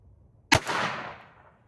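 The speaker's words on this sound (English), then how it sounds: "this is 22 long rifle, so this should be quite a bit quieter" A single .22 Long Rifle shot from a sixgun revolver outdoors: one sharp, fairly quiet crack followed by a short fading echo, with no talk.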